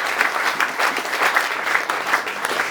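A church congregation applauding the Lord during a Sunday service, warm steady clapping from many hands with rhythmic pulses, close and lively for a few seconds.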